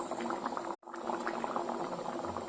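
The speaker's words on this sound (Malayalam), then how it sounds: "കറി നന്നായിട്ട് തിളച്ച് വന്ന് കണ്ടോ." A tomato curry boils in a pot with steady, close bubbling and simmering that continues throughout, broken only by one brief silent gap near the start.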